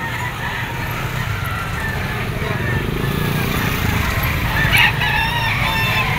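Roosters crow repeatedly at a poultry auction market in Lipa, Philippines, over a noisy, crowded background of chatter and hum, with one sharper crow standing out near the end.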